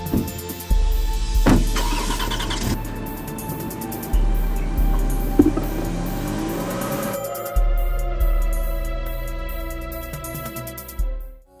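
A car engine cranks and catches three times in a row, each start followed by a short rev and idle that dies away before the next attempt.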